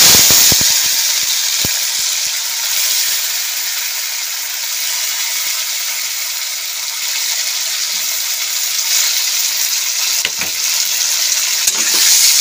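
Tomatoes frying for a Bengali tomato-date chutney, with a steady loud sizzle and hiss throughout and occasional scraping stirs of a spoon in the pan, no voices.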